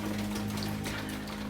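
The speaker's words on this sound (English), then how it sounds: "Yes, it's raining." Steady rain falls on a garden ahead of a hurricane, a continuous soft patter with a low hum beneath, no talk.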